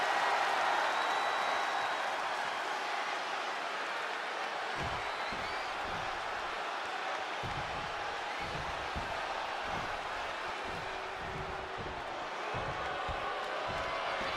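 A wrestling arena crowd in the WWE 2K26 video game roars in a steady, dense wash of cheering, with rhythmic thumping stomps or claps in the second half.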